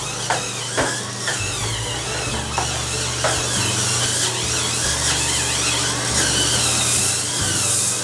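A Hurricane Spin Scrubber's small electric motor whirs steadily while scrubbing a surface, with brief dips in pitch as the low-torque brush slows under pressure, close and continuous with no talk.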